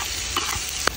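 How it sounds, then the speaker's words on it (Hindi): Onion and tomato frying with salt in a pan as octopus curry gets under way, giving a steady close sizzle with a couple of brief stirring scrapes and no talking. "डाल दिया थोड़ा सा नमक ताकि फटाफट कांदा टमाटर गल जाए"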